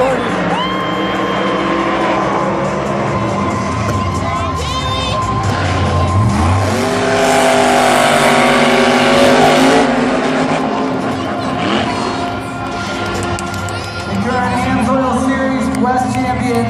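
Monster trucks racing at the Monster Jam World Finals in Las Vegas, engines roaring and revving in a big arena with tire noise, while an announcer talks over the loud continuous din.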